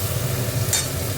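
Potatoes tossed into a hot pan, a short burst of frying sizzle with a stirring rustle, close and steady for about a second.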